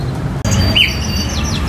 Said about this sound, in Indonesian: Sudah burung udah enak banget. Oh, udah gacoran.